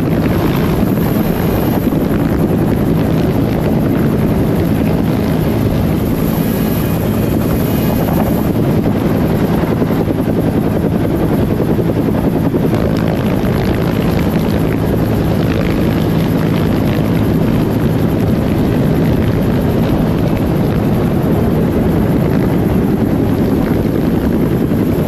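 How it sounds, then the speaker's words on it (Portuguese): A Super Huey helicopter hoists a person out of a canyon, its rotor roar loud, steady and continuous throughout, with heavy low thumping and wind buffeting and no voices. "Vemos Janelle sendo içada para fora do canyon por um helicóptero Super Huey"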